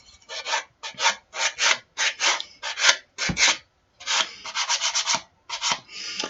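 A heavy-duty nail file rasps across a crackle paste journal cover in quick close strokes, bursts of scratchy rubbing in a steady rhythm with brief pauses between, no talk.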